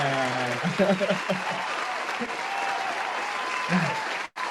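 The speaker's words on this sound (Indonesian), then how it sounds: "tepuk tangan buat kita semua." Applause from a crowd rings out steadily, moderately loud and sustained, with a few brief voices breaking through at the start.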